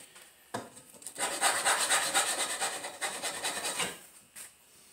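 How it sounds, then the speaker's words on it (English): A metal file rasping across an AR500 steel gong target, a short scrape followed by a run of quick, even back-and-forth strokes, close and fairly loud, ending with one last brief stroke. "But it's just easier to use files."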